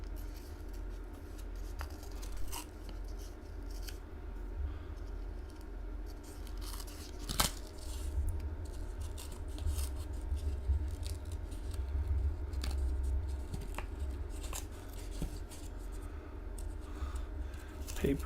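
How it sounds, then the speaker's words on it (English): Paper wrapper of an original 1964-D coin roll tearing open, giving soft crinkling and ripping over a steady low hum, with a few sharper snaps along the way. "Paper ripped a little bit on me."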